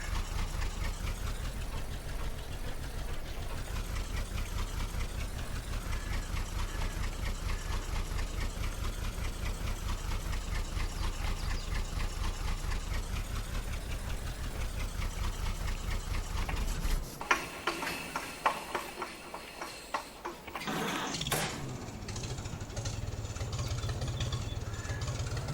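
A tractor engine idles in Farming Simulator 22, a steady low rhythmic chug that runs evenly for most of the stretch, then briefly cuts out with a few clicks and thumps before the idle resumes.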